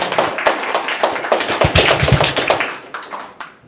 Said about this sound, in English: Please give a round of applause for Sarah